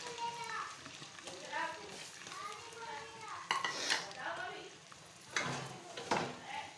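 Chopped onions go into a pan that already held fried chicken and are stirred, with soft scraping and a faint sizzle under a voice speaking Hindi throughout.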